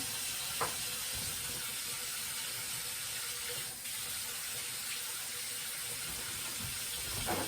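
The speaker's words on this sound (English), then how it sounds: "And I'm washing my hands because of the oil." Steady running tap water pours into a sink while hands are washed to get oil off during home cooking of chicken alfredo, a constant close hiss with a couple of brief clinks and no talking.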